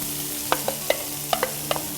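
Onions shallow-frying in oil in a pan for cashew tomato rice, a soft sizzle punctuated by several quick spatula taps and scrapes in a short burst, no voices.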